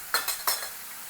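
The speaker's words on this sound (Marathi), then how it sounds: "कांद्यावर छान परतून घ्यायचं." Chicken kheema with onions and spices being sautéed in a pan, a few quick metallic scrapes and clinks of a spoon stirring over a faint sizzle.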